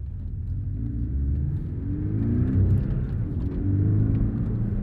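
A 2018 Porsche 718 Cayman GTS with its turbocharged four-cylinder engine pulls along the road, a steady low rumble and drone with mild swells in revs and no voices.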